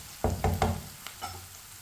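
Tomatoes and green chillies frying in a pan and stirred with a spoon, three quick scraping strokes and a faint sizzle, quiet and close.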